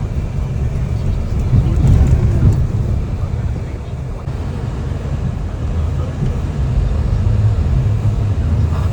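A snowplow truck drives along a road in Alaska, its engine giving a steady low rumble with wind noise. People talk over it inside the cab.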